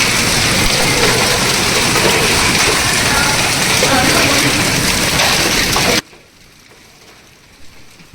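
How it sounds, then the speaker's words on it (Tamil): A hailstorm pounds down in Al Ain, Dubai, a loud, dense roar of ice striking surfaces that holds steady for about six seconds before cutting abruptly to near quiet. "ஆனால் இப்போ பார்த்திங்கன்னா ஃபுல்லாக ஹேல் ஸ்டார்மு."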